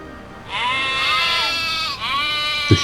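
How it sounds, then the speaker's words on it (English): Sheep bleat frantically on a farm, with two long, wavering, loud cries close by, one after the other, and a brief thump near the end. "The sheep were starting to become frantic."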